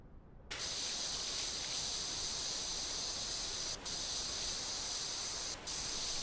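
A pressure washer sprays in the video game Powerwash Simulator, starting abruptly as a loud, steady hiss. It runs continuously and cuts out for two brief dips.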